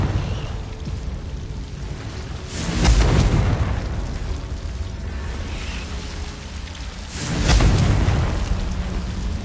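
Two heavy booming blasts from the Confringo spell in a Harry Potter video game, each a deep rumbling explosion that swells and slowly fades, spaced several seconds apart over a continuous noisy roar.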